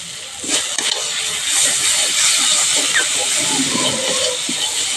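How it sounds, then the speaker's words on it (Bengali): Water poured into a hot pan of spiced food with fresh coriander leaves hisses and steams, a steady broadband sizzle filling the whole span with brief clicks of spoon or utensil. "একটু কাঁচা জল দিয়ে দিচ্ছি অল্প"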